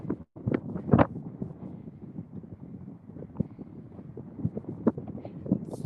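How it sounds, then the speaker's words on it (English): Gusty wind on a mountain trail up to the Mingus Mountain fire tower buffets the microphone in uneven low rumbles, with a few sharp knocks near the start. "Sorry if it's really windy."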